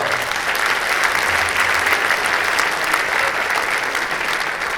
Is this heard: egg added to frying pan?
no